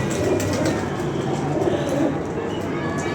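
Pigeons coo in low, throaty murmurs over steady background noise, a continuous close cluster of soft bird calls.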